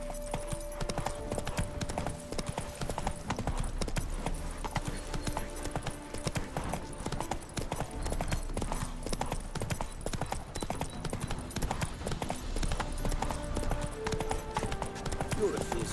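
Roach, Geralt's horse in The Witcher 3, gallops in a steady, rapid clip-clop of hooves that runs throughout, with game music and occasional voices over the hoofbeats.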